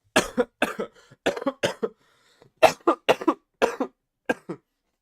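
A bout of harsh, repeated coughing up close, in clustered fits of two to four coughs separated by short silent pauses.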